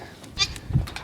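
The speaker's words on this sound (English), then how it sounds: "There's all the goats." Homestead goats bleating nearby in a farmyard, a couple of short faint calls over quiet background with no clear speech.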